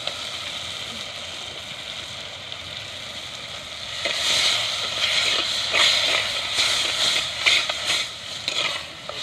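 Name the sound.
snail meat frying in a pan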